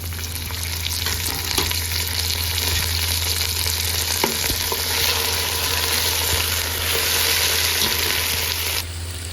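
Beef meat sizzling and frying steadily in a pot for yakhni pulao, a continuous loud hiss with light stirring throughout, no talk.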